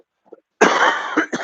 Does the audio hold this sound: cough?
yes